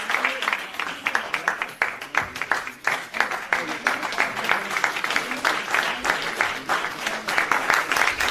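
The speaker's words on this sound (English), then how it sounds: "Let's clap for Jesus, not for me." Church congregation standing and applauding a pastor, a dense, sustained crowd of clapping that stays loud and steady throughout with a few voices faintly underneath.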